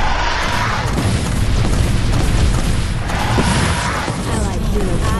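Enemy turret being destroyed in the Vainglory 5v5 video game, a dense rumbling blast with crumbling debris that swells twice across a few seconds, loud and continuous.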